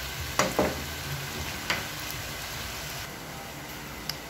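Pork kasim being sautéed in a pan gives a steady sizzle with a few sharp scraping stirs near the start, then a low, even frying hiss.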